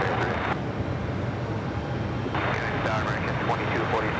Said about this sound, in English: I'm loving these departures on 4 left.